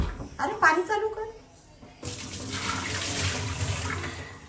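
After a young voice speaks, a water tap is opened, and a steady rush of running water pours into a vessel at moderate loudness and continues to the end.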